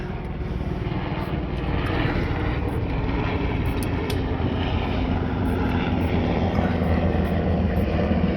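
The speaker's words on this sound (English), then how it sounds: "Helicopter coming over, bear with me." A helicopter passes overhead outdoors on a sailboat, a steady droning engine and rotor rumble that grows slightly louder and holds for several seconds, with no talk over it.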